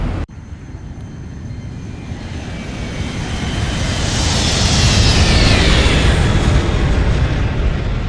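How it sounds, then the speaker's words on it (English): An aircraft flies past, its engine roar swelling from a faint start to a loud, broad rush that peaks near the end. "Flyby."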